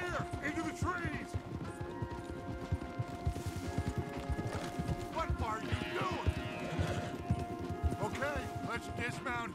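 Horse hooves clip-clop in a quick, steady rhythm while riding in Red Dead Redemption 2, with an occasional whinny, loud and close beneath people talking.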